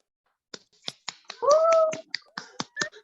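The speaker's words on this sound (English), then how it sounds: "Everybody unmute and give them a round of applause." A handful of sparse, separate claps from wedding guests on a video call for a newlywed couple, with a brief sustained voiced cheer partway through.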